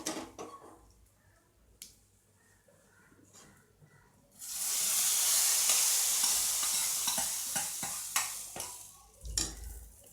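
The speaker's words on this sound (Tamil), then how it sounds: "இப்போ இந்த தாளிதத்தை வந்து சாம்பாரில் சேர்த்துடலாம்" A hot tadka tempering hits pumpkin sambar with a sudden loud burst of hissing sizzle that lasts several seconds and then fades, after quieter clinks and kitchen handling.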